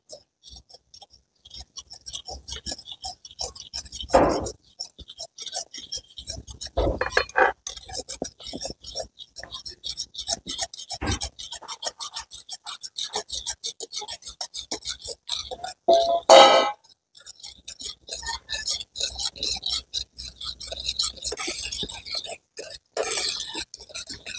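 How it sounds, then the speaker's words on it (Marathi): Gram flour is worked into boiling water in a pot with a spoon, giving scattered scraping clicks and soft wet stirring knocks at close range, irregular and fairly quiet. "आता हे पाण्याला उकळी आली, बेसन हटवून घेते।"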